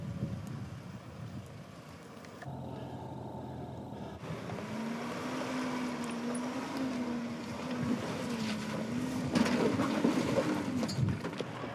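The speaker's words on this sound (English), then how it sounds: "And up and over the last climb goes the Triton" A Mitsubishi Triton 4x4 truck climbs up and over an off-road obstacle at a 4x4 club challenge, its engine droning steadily and rising in pitch as it labours, fairly faint and distant with wind noise.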